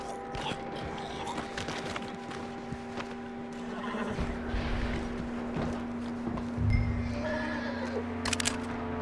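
A horse neighs and whinnies in Red Dead Redemption II, with creaking tack, shuffling movement and a steady hum around it, ending in a short snort close by.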